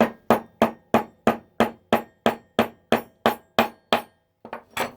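Light, evenly spaced hammer taps while an SKS rifle bolt is stripped, about a dozen sharp metallic knocks at a steady rhythm, then a short pause and two more taps, close and clear with no speech.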